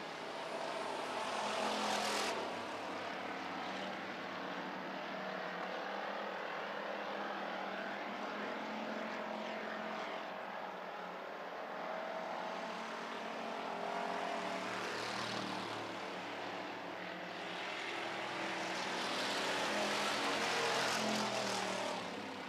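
Pure stock race cars roar around a dirt oval track during a heat race, a continuous engine drone that swells and fades as the pack passes, with no speech.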